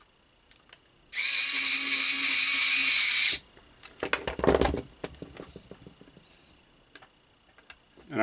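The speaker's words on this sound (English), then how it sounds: "Now we can put the screws in." Power drill driving screws into a toy's case, one loud continuous whir of about two seconds followed by clicks, rattles and small handling knocks up close.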